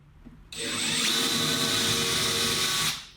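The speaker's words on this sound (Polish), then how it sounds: "punkty, w których będziesz wiercić małym wiertełkiem" A small drill bit whirs steadily at high pitch for a few seconds while drilling into a wardrobe board, starting abruptly and winding down at the end, close and loud.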